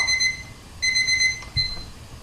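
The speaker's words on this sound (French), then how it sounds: "Ça, c'est mon minuteur." A kitchen timer's shrill electronic alarm rings in two repeated bursts with a brief pause, then a short final chirp, loud and close.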